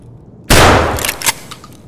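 Gunfire in the shooter game Escape from Tarkov: a sudden loud shot bursts in, followed by a couple of quieter echoing reports trailing off.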